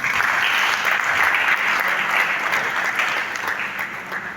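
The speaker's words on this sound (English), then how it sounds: "Please clap for him again." Sustained audience applause for a lecturer at a university science faculty conference in Nigeria, a dense, even roar of many hands that holds strong, then eases slightly toward the end.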